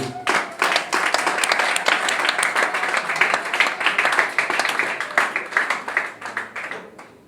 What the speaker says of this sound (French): Est-ce que nous pouvons encore applaudir pour notre Dieu?